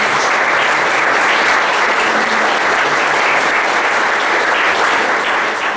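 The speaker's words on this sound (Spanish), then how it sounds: "Un fuerte aplauso a Chichi." A church congregation gives a loud, sustained round of applause for Chichi, dense clapping from many hands that holds steady for several seconds.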